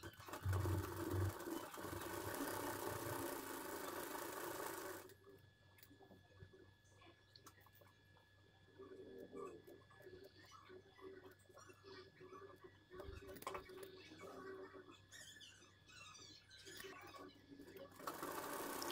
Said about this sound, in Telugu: ఇప్పుడు రెండో సైడ్ కూడా మనం అలాగ స్టిచ్ చేసుకోవాలి